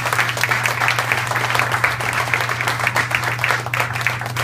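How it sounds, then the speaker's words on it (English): An audience keeps up a dense, even round of applause for a woman named Carmen, the clapping close and continuous over a steady low electrical hum. "Can I get a round of applause for Carmen"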